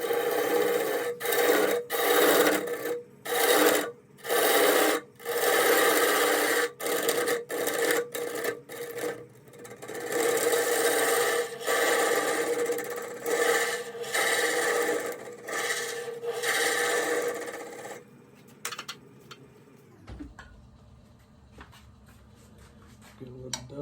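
Lathe turning of a Brazilian pine (Araucaria) bowl as a dovetail recess is cut, a steady loud scraping rasp broken by brief pauses, then the cutting stops and a quieter hum remains for the last few seconds.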